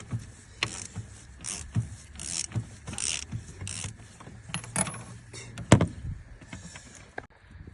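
Long 24 mm socket working loose the diesel fuel filters on a Toyota RAV4 D-4D 2.0, close metallic ratcheting clicks and gear-like mechanical turning in irregular bursts, with a few sharp knocks and no talking.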